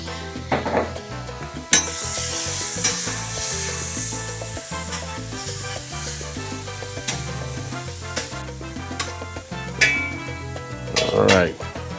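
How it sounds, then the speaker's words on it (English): Shrimp sizzle steadily on a flat-top griddle for taco filling, a continuous bright hiss with scraping spatula and clinking metal utensils over it, close and fairly loud. "the first thing we're gonna do is we're gonna hit this up, hit our shrimp up on here"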